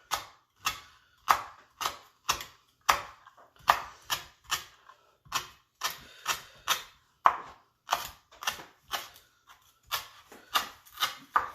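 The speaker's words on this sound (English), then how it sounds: "And then you can just chop it really finely" Knife chopping an ingredient finely on a cutting board for a Thai grilled chicken dipping sauce, crisp steady thuds in quick rhythmic clusters, close and clear with no speech.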